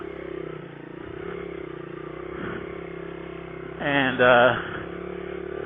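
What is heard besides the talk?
1990 Honda XR100 dirt bike engine riding through ruts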